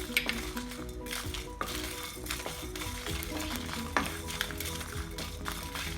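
Whole spices, coriander, cumin, fennel, bay leaf, cinnamon and cloves, dry-frying in a kadai for paneer, a steady close sizzle with frequent metallic scrapes and clinks of a spoon stirring against the pan.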